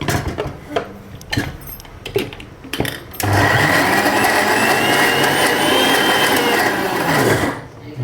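A mixie grinder grinds batter with a little water for hotel-style vada sambar. A few short on-off bursts are followed by a loud, steady, high whirring roar that runs for several seconds before winding down.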